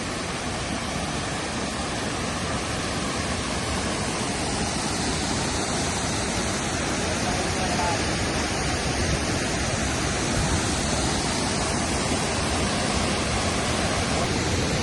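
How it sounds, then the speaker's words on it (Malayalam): A large waterfall at Haritheerthangara in Kannur roars steadily and loudly, a dense unbroken rush of falling water filling the whole span with no voices. "താഴെ വന്നു കഴിഞ്ഞാല് അപ്പം വലിയ വെള്ളച്ചാട്ടം തന്നെയാണ് ഈ വെള്ളച്ചാട്ടം."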